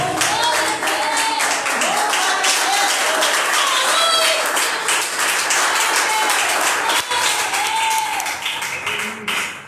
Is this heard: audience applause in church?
yes